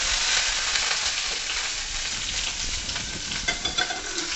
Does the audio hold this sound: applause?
no